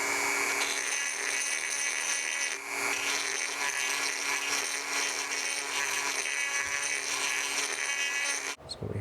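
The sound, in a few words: Dremel rotary tool grinding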